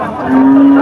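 A fairly large Friesian cross cow at a cattle market gives one short, loud, close moo.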